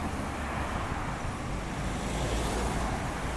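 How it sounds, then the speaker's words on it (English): A bus driving past a stop on a road, a broad, steady engine and tyre rumble with traffic noise that swells slightly toward the end, close and continuous with no talking. "And here is the bus going past now."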